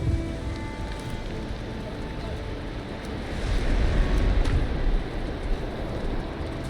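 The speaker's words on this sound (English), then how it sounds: "Wonderful, wonderful rain in Valheim." Steady rain patters in the video game Valheim, a continuous hiss of drops with a gentle swell in the middle and no voice over it.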